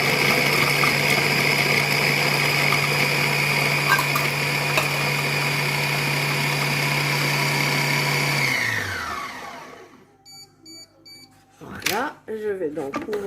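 A Compact Cook Pro food processor on its chop program at speed 6 whirs with a steady high motor whine for several seconds, then spins down to a stop, followed by faint clicks and someone speaking.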